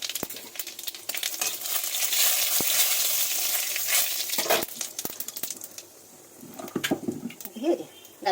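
Boiled, mashed moong dal cooking in a wok on a home stove, a steady broadband sizzle that fades in the second half, broken by a few utensil clinks and scrapes near the end.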